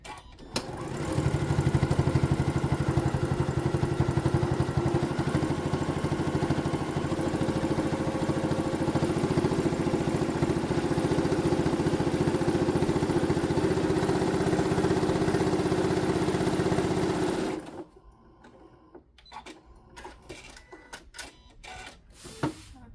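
A sewing machine stitching the lining of a boxy bag runs in one long steady whirring burst of about fifteen seconds, then stops, followed by faint handling clicks and rustles.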